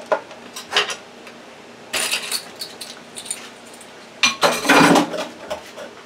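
A serving spoon clinking against dishes while granola bar ingredients are prepared: scattered light metallic chinks and rattles in short irregular clusters, close by, with a louder jangling burst near the end and no talk.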